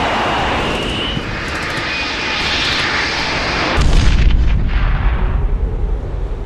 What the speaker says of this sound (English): The Predator drone carries 2 laser-guided Hellfire 100-pound missiles